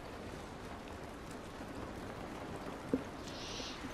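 Steady rain in The Last of Us, an even wash of falling water heard outdoors at constant level, with one brief knock near the end.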